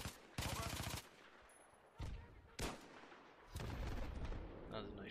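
In a first-person shooter, loud Magnum gunshots and other gunfire crack out in sharp bursts, some sustained like rapid fire, separated by short gaps and echoing battle noise.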